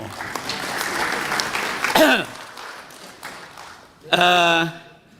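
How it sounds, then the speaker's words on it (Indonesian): Audience at a hearing with the national police chief and a parliament member clapping, a moderate wash of applause broken by voices and a short sung or shouted tone in the middle and near the end. "Tepuk tangan dong"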